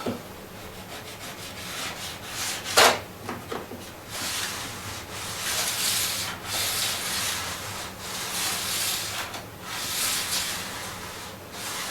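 Model railway track being scrubbed with an abrasive to clean off glue, a steady dry rubbing and scraping with rhythmic strokes close up, one sharper scrape early on, no talking.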